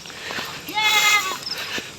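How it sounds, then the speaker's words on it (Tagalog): Goats on a Filipino farm near vegetable plots bleat in a short burst, a wavering harmonic cry in the middle with fainter calls around it, set against a steady outdoor background. "naharot mo na naman yung mga kambing ha"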